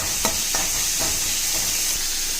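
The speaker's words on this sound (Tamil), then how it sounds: "கொஞ்சமாக வெங்காயம் ஆட் பண்ணிக்கோங்க. வதக்கிட்டு அரைக்கணும். இதை நல்லா வதக்கலாம்." Onions and poppy seeds sauté in a pan for a kurma with snake beans and split field beans, giving a steady bright sizzle with a few soft scraping stirs of a spatula, close and constant.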